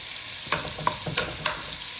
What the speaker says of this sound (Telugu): ఇదంతా పచ్చి వాసన రావద్దు, అందుకరికి ఈ ఆయిల్లో మంచిగా ఫ్రై కావాలి.